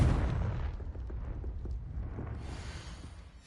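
Confringo fire spell blast in Hogwarts Legacy on PS5, set in a cellar. A single loud, close explosion rolls into a long, low, rumbling decay with no one speaking.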